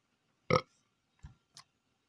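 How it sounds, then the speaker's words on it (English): A single short burp bursts out in a quiet room, followed by two small, faint throaty sounds a moment later. "You farted and I burped."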